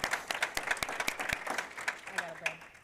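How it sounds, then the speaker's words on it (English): Audience applauding a panel at a rural teacher workforce summit, a short burst of claps with some talk heard over it. "Can we give our panel a round of applause here?"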